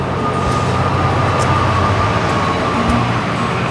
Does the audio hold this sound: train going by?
yes